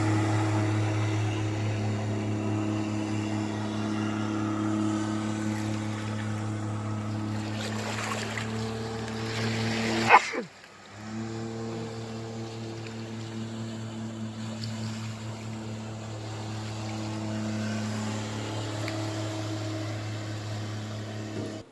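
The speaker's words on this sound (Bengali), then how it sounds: "উদ্ধার কাজে নদীতে নামানো হয়েছে স্পিডবোট।" A speedboat runs on a river during a rescue search for a drowned young man in a Birbhum village, its steady low engine drone continuing throughout with a brief sharp knock midway.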